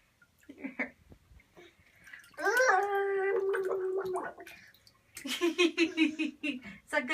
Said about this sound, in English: Is that good bubble blowing?